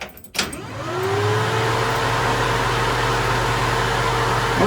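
A homemade heater system in a 1936 Chevy Coupe hot rod switches on with a sharp click, then a steady electric fan or motor hum rises and settles into a loud, continuous drone.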